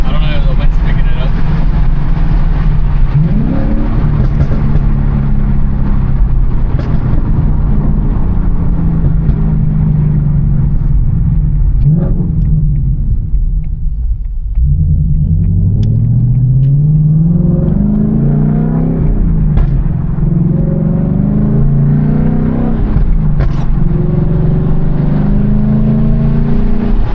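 A Ford Mustang GT S650 with a ghost cam and burble tune rumbles steadily from inside while driving. Its deep exhaust note rises and falls with throttle changes under constant road and wind noise.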